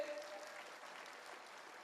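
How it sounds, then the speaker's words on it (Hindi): A crowd applauding steadily, a dense wash of clapping that stays even throughout. "एक जोरदार तालियां होना चाहिए इनके लिए"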